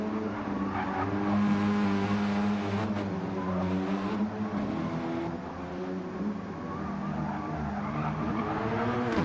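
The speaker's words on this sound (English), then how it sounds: "Plenty of tire screeching going on." Racing cars in a GT1 sim race on the Nürburgring Nordschleife screech their tires almost continuously over steady engine roar, with the squeal rising and falling as cars slide through corners.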